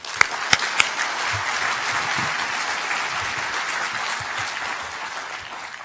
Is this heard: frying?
no